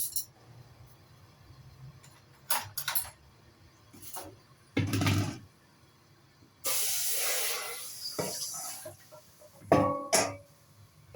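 A pot of Chinese-style stew comes to the boil, giving a broad steamy hiss that swells for a couple of seconds, with scattered clinks and softer bubbling bursts around it.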